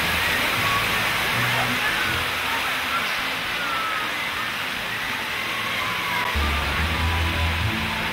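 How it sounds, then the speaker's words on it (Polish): Jets of a musical fountain in Astana spray and splash in a steady hiss, with low tones of background music and a voice talking over the water. "Zaś sama fontanna wyrzucała w rytm puszczanej muzyki co chwilę inne"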